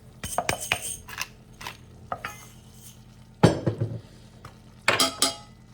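Flour going into a roux in a pan while making old-fashioned homemade scalloped potatoes, heard as scattered clinks and scrapes of a utensil against cookware, with a louder clatter near the middle and another toward the end, no talking.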